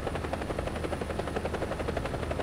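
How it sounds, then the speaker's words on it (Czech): Bell AH-1G Cobra attack helicopter in the War Thunder video game, a loud steady rotor thump with fast rhythmic chopping pulses and engine whine, close and continuous with no speech. "na mojí prdel se pověsí vrtulník"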